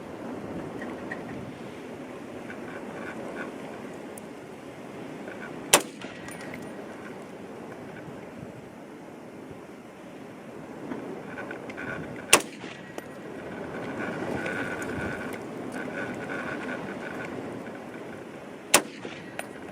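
Three rifle shots at a 100-yard target ring out sharply at evenly spaced intervals, roughly six seconds apart, over a faint steady outdoor wind hiss.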